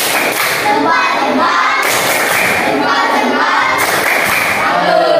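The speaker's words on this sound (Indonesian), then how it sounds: "Tepuk salut untuk kelompok 1." A classroom of pupils gives a group a rhythmic 'tepuk salut' clapping cheer, dense and loud hand claps with thumps and voices running throughout the whole stretch.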